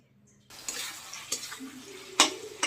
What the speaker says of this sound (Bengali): একটু ভালো করে নাড়াচাড়া করে নিচ্ছি।